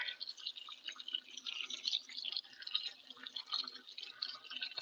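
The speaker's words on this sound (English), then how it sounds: "And then I pour my butter." Melted butter poured over a casserole topped with crushed Ritz crackers, a soft, quiet trickling and patter of liquid hitting the crumbs, heard close and alone for a few seconds.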